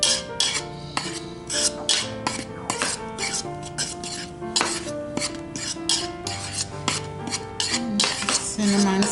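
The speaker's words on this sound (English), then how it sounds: "Let me mix that together." Baking soda being stirred into banana bread batter in a bowl: a utensil repeatedly scrapes and clinks against the bowl in a quick, uneven rhythm, close and fairly loud, with no talking.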